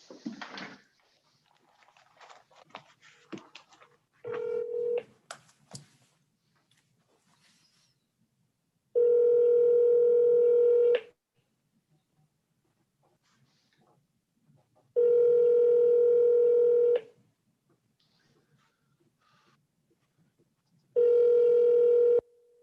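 Telephone tones on a call placed during a court hearing: after faint clicks and rustling, three long steady tones of about two seconds each repeat at even intervals, clear and close.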